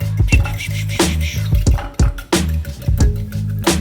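A whisk or fork beating cinnamon into French toast egg batter in a bowl: close, loud, rhythmic wet clicks and sloshing strokes repeating about twice a second, with no talking.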